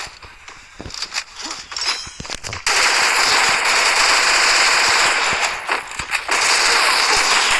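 Rapid bursts of gunfire from the Free Fire battle royale video game in a ranked match, sharp cracks at first, then a loud sustained barrage of automatic fire with brief pauses.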